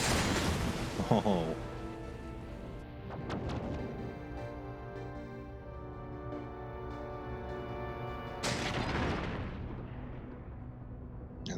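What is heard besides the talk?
space battle torpedoes and weapons fire in Endless Space 2 video game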